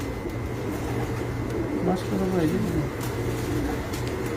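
Flying pigeons, three birds aloft for three years, cooing softly amid outdoor background noise, while someone speaks briefly over them.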